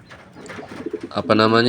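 A fantail pigeon, crossbred with an ordinary white pigeon, coos up close: a quick run of soft throaty pulses that swells into a louder, drawn-out coo.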